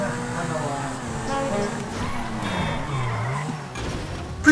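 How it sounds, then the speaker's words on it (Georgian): Car skidding in GTA 5 gameplay, with sustained tire squeal and engine noise during a crash into a motorcycle, heard loud and continuous while a player talks over it. "მოტოციკლის დავეჯახე და განაკაცი გადმოვარდა"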